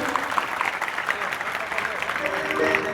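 A crowd applauding a birthday greeting at a public gathering, brief dense clapping that stays steady and moderately loud.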